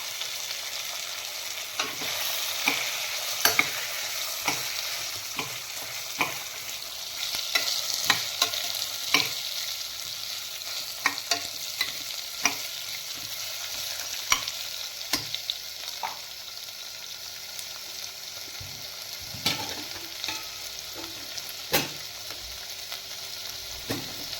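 Tomato and spices, with pepper, being fried for a baby jackfruit gravy, a low steady sizzle punctuated by frequent spoon scrapes and knocks against the pan, close and alone.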